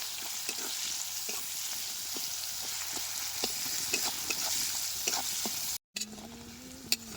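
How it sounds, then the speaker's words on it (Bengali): Chopped garlic, onion and chilli frying together in oil, a close, continuous sizzle with scattered crackles and pops, heard alone without talk. "এখানে লঙ্কা পেঁয়াজ আর রসুন একসাথে কত সুন্দর ভাজা হয়ে গেছে"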